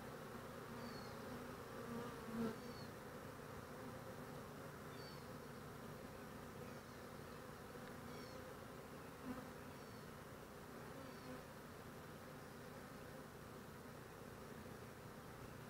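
Honey bees disturbed while a honey-laden hive frame is lifted out and inspected, a steady, dense buzzing swarm close around, continuous and fairly loud with no talk.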